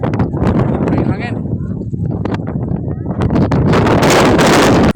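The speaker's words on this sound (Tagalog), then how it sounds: "kusog pagid ang hangin" Strong wind buffets the microphone in heavy, roaring gusts on Mt. Maygading, Malita, Davao Occidental, swelling louder toward the end.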